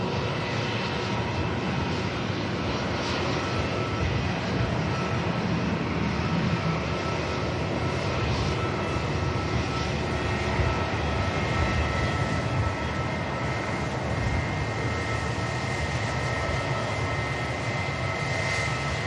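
A British Airways jet airliner at Manchester Airport gives a continuous, broad roar of engine noise that holds steady and fairly loud for the whole stretch, with no voices over it.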